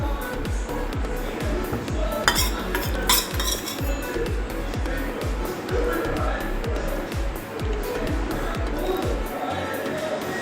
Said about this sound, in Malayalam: ഇനി ഇതിൻ്റെ മുകളിൽ നമുക്ക് പിസ്സ സോസ് തേക്കാം. എല്ലായിടവും നന്നായിട്ട് പറ്റുന്ന രീതിയിൽ തേച്ച് പിടിപ്പിക്കണം.